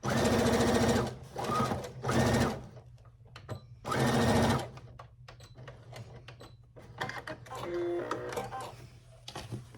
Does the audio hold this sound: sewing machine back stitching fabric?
yes